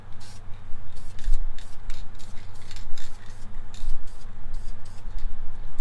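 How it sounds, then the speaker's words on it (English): Repeated short hissing bursts of VHT self-etching spray primer onto a bare metal 1967 Mustang dash, several quick sprays in an uneven rhythm over a low steady hum, close by. "hit the dash with a little spray of this VHT self-etching primer"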